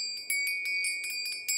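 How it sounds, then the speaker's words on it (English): A small bell rung in quick repeated strikes, bright ringing tones with a lingering sustained pitch, close and clear in a quiet room. "a bell."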